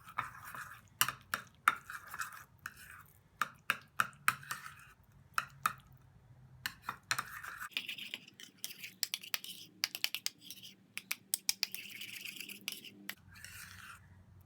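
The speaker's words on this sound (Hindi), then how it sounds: "इन सब चीज़ों को मिक्स करेंगे।" Face scrub ingredients, including a few drops of vitamin E oil, are stirred together in a small bowl: a steady run of close, crisp clicks and scrapes as a spoon strikes and drags against the sides, with short pauses between strokes.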